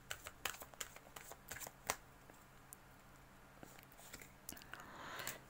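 Tarot cards being shuffled in quick, soft riffling bursts with sharp papery snaps, close and quiet, with no talking.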